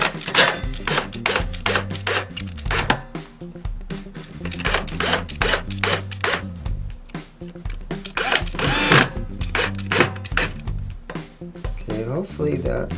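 A power drill whirs in repeated bursts as it drives screws into the wooden body of a 1989 USA Squier guitar, grinding and rubbing against wood, with a person talking between and over the runs.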